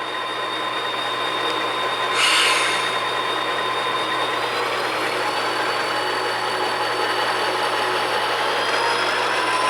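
Model railroad locomotive running steadily during switching, a continuous electric motor whine with faint rail noise and one brief high squeal near the start.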